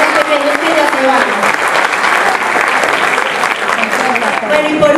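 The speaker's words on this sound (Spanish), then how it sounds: "les pido un fuerte aplauso para nuestros protagonistas de la campaña de educación inicial" Steady applause from a crowd at an early-education campaign event fills the whole stretch, dense and continuous, with some voices mixed in underneath.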